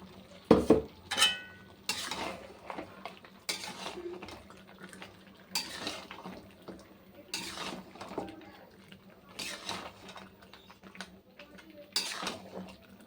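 Mutton curry simmers on low heat in a pot while a spoon stirs, giving repeated clinks and scrapes against the metal over a faint sizzle, close, with occasional soft speech.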